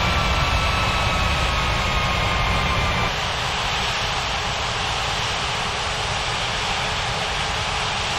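A jet aircraft engine in an air traffic control video game drones loudly and steadily as the plane taxis. The roar holds constant throughout, with no talking.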